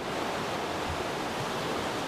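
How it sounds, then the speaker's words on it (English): Atlantic ocean waves on the sandy, shell-strewn shoreline of Wilmington on the North Carolina coast, a steady broad wash of surf with no talk. "the Atlantic waves glide over the sand and shells on the shoreline of Wilmington"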